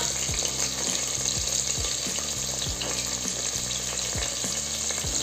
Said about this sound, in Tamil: அப்புறம் வெங்காயம் போட்டு வெங்காயம் கொஞ்சம் வதங்கினோன்னே தக்காளி போட்டுக்கலாம்.